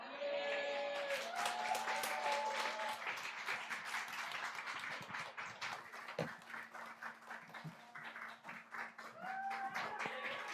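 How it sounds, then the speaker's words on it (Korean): A church congregation at a Sunday afternoon service claps in a long, dense patter of applause that fades slightly midway and swells again, with a faint sustained musical tone underneath. "다시 한번 큰 박수 부탁드리겠습니다."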